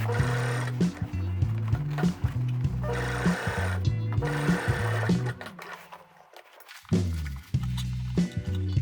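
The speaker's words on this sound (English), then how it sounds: "Sew all the pockets." A domestic sewing machine stitches pockets onto a pinafore dress in short runs, a close, loud mechanical chatter that stops briefly midway and then starts again, with no talk over it.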